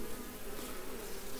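Honey bees buzz densely at an open hive, a continuous close swarm drone with no talk over the short stretch.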